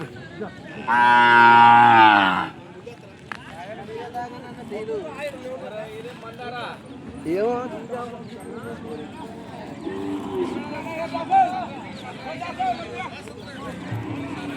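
Ongole calves at the Sunday cattle market in Kodad give one loud, drawn-out moo close by near the start, followed by steady talk and market chatter.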